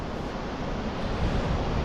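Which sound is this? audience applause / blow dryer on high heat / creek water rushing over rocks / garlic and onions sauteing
creek water rushing over rocks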